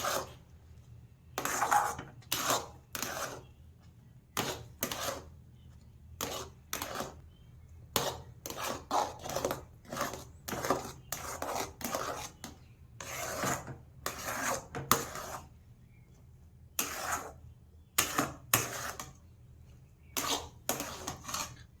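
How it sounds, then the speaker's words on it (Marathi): Thick mango sheera, semolina with mango emulsion, is stirred and scraped in a pan, making repeated rasping strokes in an uneven rhythm, close and fairly loud with no talking. "आता छान असं मिक्स करून घ्यायचं आहे."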